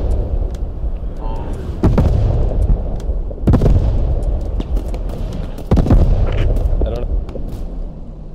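Repeated gunfire and booming shots in Squad 44 are aimed at an enemy truck, several sharp reports standing out over steady battlefield noise while players talk.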